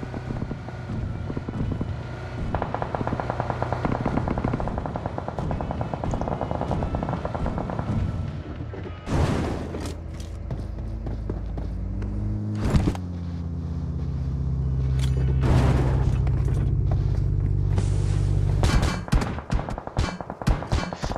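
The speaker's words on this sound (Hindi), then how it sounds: "बंदे के ऊपर आ रही है फायरिंग" Gunfire and explosions in a battle royale video game during a scrim match, sharp loud bursts standing out over a constant rumble of wind and vehicle engine noise.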